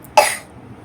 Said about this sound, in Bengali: খেতে বসলেই কাশি